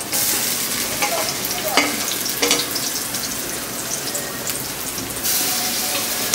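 Water lily flower fritters fry in hot oil. A dense, even sizzle carries on throughout, close and loud, with a few brief bursts of sharper crackling and a clink or two of stirring.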